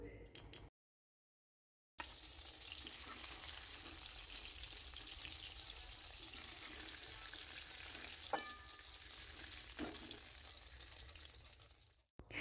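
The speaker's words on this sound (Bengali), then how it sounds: "বেগুনগুলোকে দিয়ে নেড়ে চেড়ে খুব ভালো করে গলে যাওয়া পর্যন্ত ভেজে নিতে হবে।" Brinjals deep-frying in hot oil make a continuous, fairly quiet sizzling bubble throughout, with a couple of sharp clinks from stirring, broken by a short silent gap near the start.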